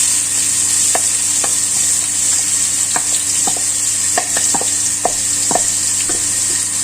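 Chopped onion sautéing in hot oil in a wok that was just used for frying egg, for pork fried rice: a steady close sizzle broken by sharp scraping clicks from stirring at an irregular pace.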